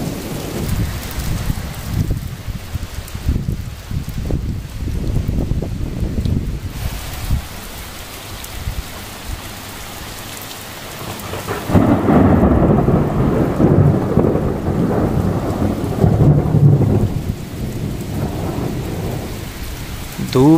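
Heavy rain pours steadily on surfaces during a sudden sunshower, loud and close, with a swelling rumble of thunder and the downpour intensifying midway.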